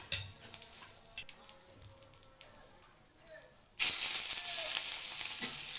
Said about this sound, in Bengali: তেল গরম হয়ে গেছে, এখন তেজপাতা, জিরে আর 2টো শুকনো লঙ্কা আমরা এর মধ্যে ফোড়ন দিয়ে দেবো।